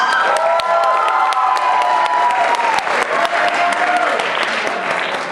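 A crowd at a high school debate awards ceremony applauds and cheers for its coaches, with steady close clapping, scattered whoops and an amplified voice ringing faintly through the hall.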